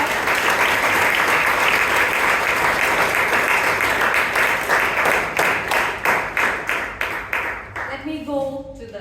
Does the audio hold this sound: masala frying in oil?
no